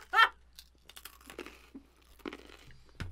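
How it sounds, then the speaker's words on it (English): A crunchy biscuit is bitten, giving one loud, close crunch followed by a few faint, scattered crumbly crackles and small rustles, with no talking. "we'd still hear the faint crumbling of a biscuit"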